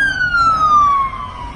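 A police siren on a street in Tennessee wails alone for a moment, a clear descending electronic tone with steady background traffic rumble.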